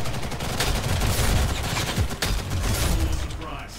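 MP5K submachine gun fire in the shooter Ghost in the Shell: First Assault crackles in fast, dense bursts alongside other weapons, loud and continuous, with the firefight easing slightly toward the end.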